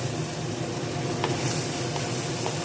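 A tempering for curd rice roasts in a pan, giving a dense, steady sizzle with a few faint stirring touches. It is close and continuous with no voices.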